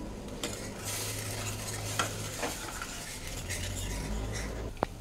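Sauce being stirred in a frying pan while making baby corn Manchurian, a spoon scraping steadily around the pan over a soft sizzle, with a few light clinks of utensil against metal, close and continuous.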